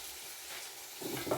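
Curry leaves hit hot oil with a soft sizzle that swells into a louder crackle near the end of a brief moment, close by, with no voices.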